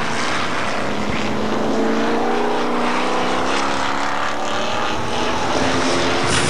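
A pack of Hotstox race cars at Buxton circles the track, engines droning loudly and steadily with rising and falling revs as they pass close by.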